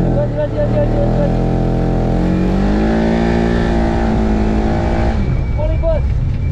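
A buggy engine revving loudly up close as it accelerates, with its pitch rising steadily under load before easing off, while a person talks over the continuous roar.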